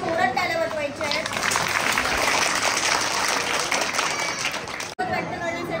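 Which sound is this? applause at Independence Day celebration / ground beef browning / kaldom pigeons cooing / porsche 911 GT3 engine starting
applause at Independence Day celebration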